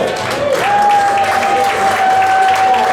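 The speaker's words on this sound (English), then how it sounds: "let's hear it for phenomenal Phil" Audience applauding for a performer billed as Phenomenal Phil, a dense, steady wash of clapping filling the room at close range, with a sustained tone running through it and some crowd voices mixed in.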